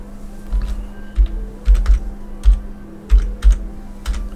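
Someone types on a computer keyboard in a short burst of close, crisp clicks, keystrokes landing in small uneven clusters with brief pauses between, each tap distinct and alone with no talking.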